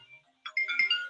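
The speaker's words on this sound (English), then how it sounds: "So I'm sorry about the phone calls." A phone ringtone chimes during a live stream, starting about halfway through as a clear, fairly loud melodic electronic tone that continues to the end, with no talk over it.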